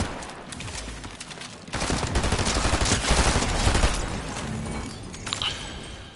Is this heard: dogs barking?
no